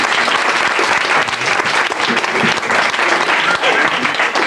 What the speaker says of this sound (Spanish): le doy un fuerte aplauso